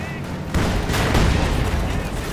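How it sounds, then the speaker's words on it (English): A mine detonates in a Company of Heroes 2 battle, a loud boom over a dense wash of gunfire and artillery from the game, lasting about two seconds. "There you go, mine went off"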